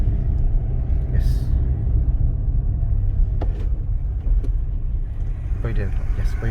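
A car drives along a narrow road during a personal driving lesson, its steady low engine and road rumble continuous and close throughout, with a few faint brief clicks and squeaks over the hum.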